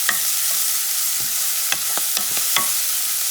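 Peppers and cilantro are stirred around a hot pan: a steady sizzling hiss broken by a handful of sharp spoon scrapes at irregular intervals, close and fairly loud, with no voices.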